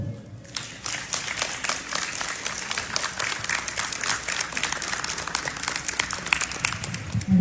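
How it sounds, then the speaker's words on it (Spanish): Sustained applause from an audience at a book presentation honors poet, teacher and writer Fernando Luján Cruz, a dense steady patter of many hands lasting several seconds without talk. "Merecidos aplausos al poeta, maestro y escritor Fernando Luján Cruz."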